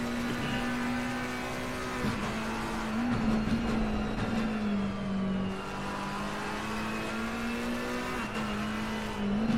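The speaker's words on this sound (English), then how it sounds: "the loud sound of the McLaren, and it sounds like you're in a fighter jet" A McLaren race car engine in a racing video game at the Nurburgring holds a loud, steady high-revving drone with small pitch dips and rises as it shifts and corners, continuous and close with no talk.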